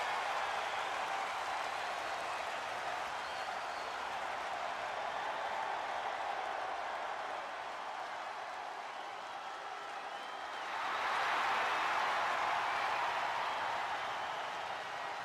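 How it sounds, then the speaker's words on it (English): A virtual arena crowd in the wrestling video game WWE 2K25 roars steadily for Jey Uso, a continuous wash of cheering and applause at moderate distance that swells louder toward the end. "The crowd is on their feet for Jey Uso."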